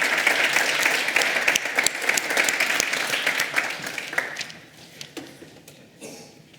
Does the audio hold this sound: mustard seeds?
no